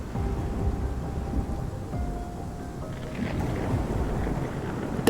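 Steady rain pours with low rumbling thunder rolling underneath in the video game Love and Deepspace, a continuous stormy wash without voices.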